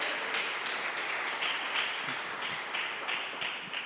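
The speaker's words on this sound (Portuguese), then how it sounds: "aplauda ao Senhor" A church congregation applauds steadily during a worship service, producing a dense wash of clapping that holds at an even level from start to finish.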